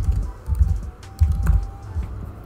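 Typing on a computer keyboard, a quick run of close soft key clicks in uneven clusters with brief gaps, steady and alone without talk.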